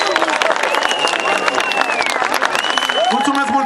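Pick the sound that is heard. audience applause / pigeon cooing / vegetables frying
audience applause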